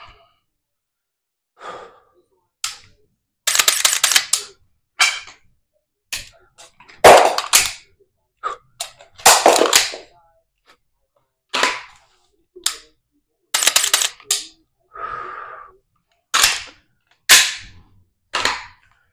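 Dry-fire training with a Mantis Blackbeard trainer and dummy rounds gives sharp isolated clicks and clacks of handling and trigger work, spaced irregularly over the stretch, with audible breathing between them in a quiet room.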